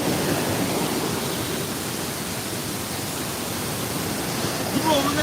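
Water rushing through the shutters of the Oorkadavu bridge, a steady loud broadband roar of falling, churning water holding constant throughout with no voices.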